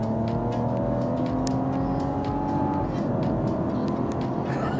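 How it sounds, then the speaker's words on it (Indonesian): A Mazda CX-60 Kuro Edition with a 3.3 L turbo engine pulls hard on a highway, heard from inside the cabin as a steady, rising drone under road noise, then easing after a gear change. "itulah tadi tarikan mesin 3300 cc ya, turbo"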